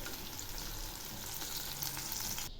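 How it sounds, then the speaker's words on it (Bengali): Brinjal slices fry in oil with a steady, soft crackling sizzle that runs unbroken for a few seconds. "বেগুন ভাজা প্রায় হয়ে এসছে, আর একটু হলেই নামাবো।"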